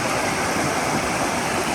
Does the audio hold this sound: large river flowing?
yes